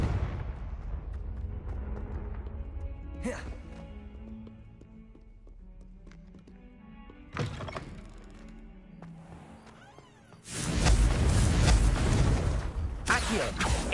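Fire-curse spell blasts in the Hogwarts Legacy video game, with a sharp crack near 3 s and another near 7.5 s over a rumbling game background, then a loud, sustained roaring explosion filling the final seconds.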